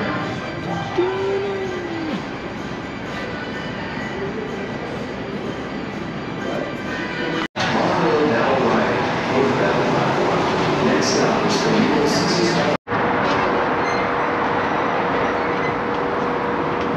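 Las Vegas monorail train ride between a hotel station and the convention center, a steady broadband rumble of the car in motion with faint squeals and hum, loud and continuous throughout with occasional background voices.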